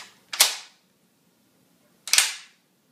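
A straight-pull bolt on a K31 Swiss rifle is cycled twice, making two sharp, loud metallic clacks about two seconds apart with silence between them.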